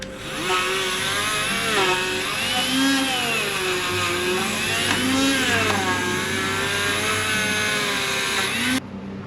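Wire wheel spinning against Honda Valkyrie motorcycle parts during a thermostat replacement, a steady high whining drone with slight pitch wobbles as pressure changes, continuous and close until it cuts off at the end.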